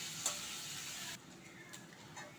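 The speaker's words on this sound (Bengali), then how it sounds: "পেঁয়াজটা একটু লাল লাল করে ভেজে নেব, যাতে পেঁয়াজের কাঁচা গন্ধটা চলে যায়" Onion frying in oil in a pan, a soft steady sizzle that drops in level about halfway through, faint and close with no talking.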